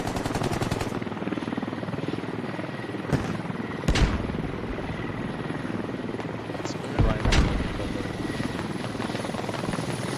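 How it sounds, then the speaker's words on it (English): Enemy helicopter in the military shooter game Squad, a steady rotor drone running throughout at moderate distance, with a few sharp gunshot-like bangs over it and players talking on radio. "That's an enemy helo."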